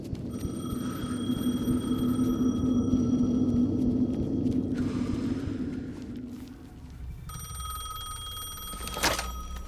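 Telephone ringing in the Alan Wake 2 horror game, a repeated electronic ring with steady tones over a low droning ambience, fairly loud and alone, with a sharp click near the end.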